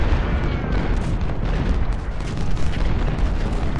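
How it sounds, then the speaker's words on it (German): Artillery cannons fire on a Civil War battlefield in Ultimate General: Civil War, a dense, continuous low rumble of booms blending into one another without pause. "die Kanonen können da richtig draufbratzen"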